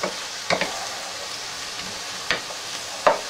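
Cracked pepper and garlic are stirred in a pan with a soft, low sizzle, marked by a few sharp utensil scrapes and knocks at irregular intervals.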